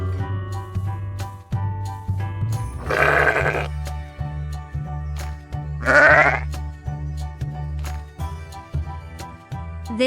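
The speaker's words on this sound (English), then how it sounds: "This is sheep." A sheep lets out two loud, quavering bleats a few seconds apart, each close and distinct, over a steady background of gentle music.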